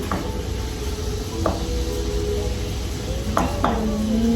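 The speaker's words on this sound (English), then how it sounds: "Mix this meat." Meat being stirred in a pan while fresh pasta ravioli and cornbread are made, with a few sharp utensil clacks against the pan over a steady low kitchen background, close and moderately loud.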